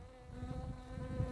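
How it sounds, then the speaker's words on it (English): Bee buzzing steadily nearby, a faint continuous droning hum with slight wavering in pitch and loudness throughout, heard alone without speech. "It's just a bee, Jack."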